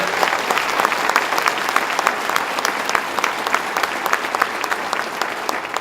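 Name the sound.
round of applause for Betty Little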